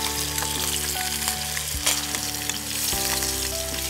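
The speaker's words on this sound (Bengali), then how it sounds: "মাছটা নিশ্চয়ই তুমি খুব হালকা ভাজবে" Hilsa (ilish) fish frying lightly in a pan, a steady close sizzle with faint stirring clicks and scrapes, no talk.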